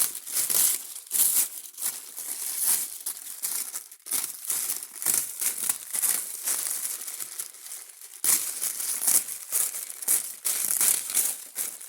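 Tissue paper being torn and peeled off the underside of sewn fabric for a nursing top, a continuous run of close, crisp crinkling and ripping bursts with brief pauses.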